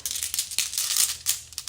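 Tarot cards being shuffled by hand, giving a steady run of close, crisp papery riffles and flutters with brief pauses, alone without talk.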